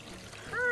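Filtered water poured into a container for fruit popsicles, a brief rising gurgle and trickle growing louder near the end of a short, close-up moment.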